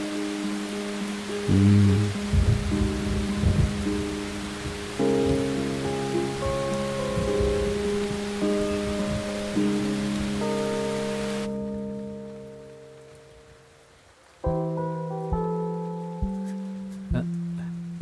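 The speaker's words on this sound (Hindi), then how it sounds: "वो बारिश देखने आई थी।" Steady hiss of rain falling, with sustained tonal sounds layered over it, cutting off abruptly partway through before quieter tones continue.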